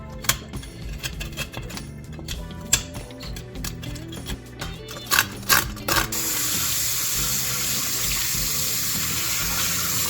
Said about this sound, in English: done rinsing off the inside part of the fish